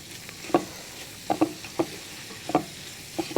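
Onions and chopped green chillies frying in a pan for butter chicken, a soft steady sizzle broken by a few sharp scraping stirs at irregular intervals.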